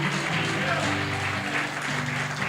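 A church congregation applauds during a Portuguese-language worship service, a steady wash of clapping with a low tonal hum and murmuring voices underneath.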